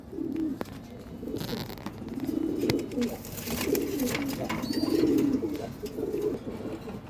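Racing pigeons kept at home give repeated low, throaty coos, several overlapping calls in a soft rhythmic series, close by against faint background noise.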